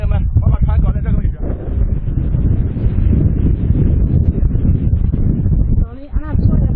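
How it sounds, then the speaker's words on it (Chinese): Strong wind gusts across an open lake on a fishing boat near a shallow bank, roaring steadily into the microphone. A voice speaks briefly near the start and again near the end. "现在起大风了，看一下很危险"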